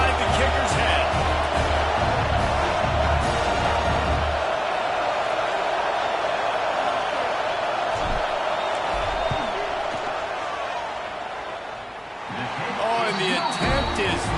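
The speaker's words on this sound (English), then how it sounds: "This crowd trying to do its part to get inside the kicker's head." Stadium football crowd roaring loudly and continuously during a field goal attempt at a Texas at Penn State game, a dense wash of distant cheering that dips briefly near the end before swelling again.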